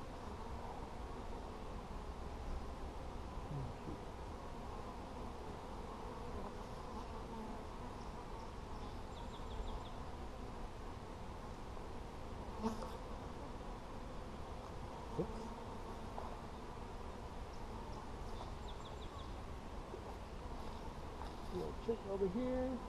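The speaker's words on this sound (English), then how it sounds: "Out little bees." Honeybees drone in a steady, close buzz around an open beehive during a hive inspection, a continuous hum that holds for the whole stretch with occasional faint clicks and handling noises.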